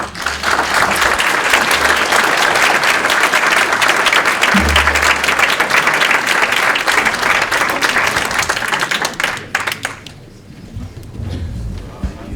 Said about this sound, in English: Let's give one more round of applause for Mr. Smith